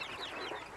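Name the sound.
chickens clucking on a farm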